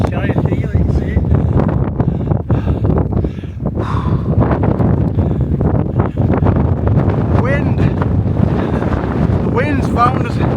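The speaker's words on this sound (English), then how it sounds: "The wind's found us." Loud, steady wind gusts buffet the microphone on a Lake District mountain summit at The Nab, roaring continuously throughout with a brief lull, while people talk over it.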